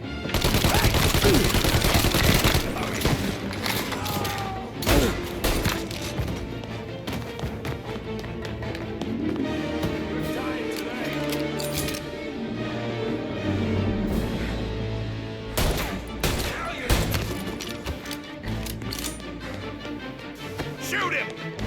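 Shootout gunfire in Mafia: Definitive Edition, loud bursts of shots cracking in clusters over a busy mix of music and effects, with heavier volleys at the start and again midway.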